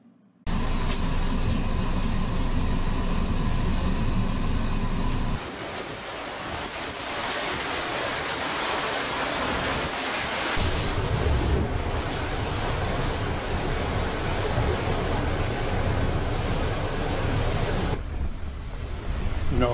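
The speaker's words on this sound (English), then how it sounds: "let's take a look at some interesting video here of a sea roaring" Loud, continuous roar of heavy sea surf with crashing waves and strong wind rumble, sustained throughout with a brief drop in intensity partway and no voices.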